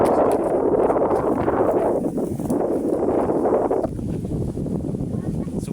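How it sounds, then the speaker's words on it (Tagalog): Strong storm wind roars steadily across the microphone, a broad rushing buffet that eases slightly toward the end, with no talking. "Sobrang lakas ng hangin ngayon mga lods."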